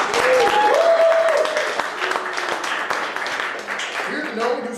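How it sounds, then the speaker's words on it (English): A theater audience applauds, a dense burst of clapping that is loudest at the start and thins gradually, with voices calling out over it. "Let's give them a round of applause,"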